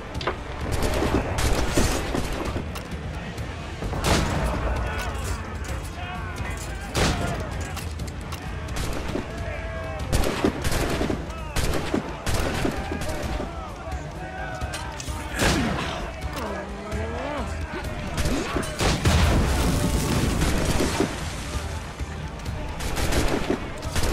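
Ship boarding battle in Assassin's Creed Rogue, a dense barrage of gunshots and heavy cannon booms firing in rapid, irregular bursts throughout, loud and close, with scattered crashes and faint shouting voices underneath.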